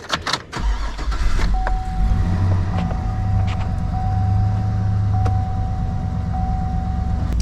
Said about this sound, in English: and now I can start the vehicle